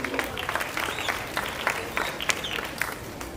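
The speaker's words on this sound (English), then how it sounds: "I want you all to give yourselves a round of applause for doing so" Primary school graduation audience claps steadily, a dense round of applause with sharp individual claps standing out, moderately loud and without talk.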